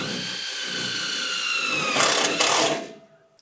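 A power drill or driver runs steadily as it sets screws back into a rammed earth construction, building to a louder whine near the end before cutting off, close and alone.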